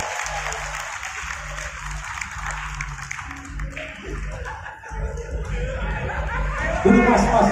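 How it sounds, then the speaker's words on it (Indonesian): Scattered audience clapping at a mass hypnosis stage show during a corporate annual briefing in Ancol, mixed with crowd chatter and some laughter, moderately loud and building near the end. "Tepuk tangan untuk pria-pria yang jujur ini."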